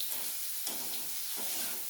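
Panch phoron spices fry in hot oil, giving a steady, close sizzle with crackling and small surges as the pan is stirred, with no talking.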